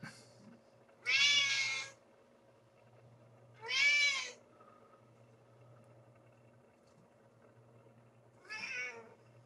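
A cat meows three times, the calls loud and close with long pauses between them, the last one a bit softer, over a quiet indoor background hum.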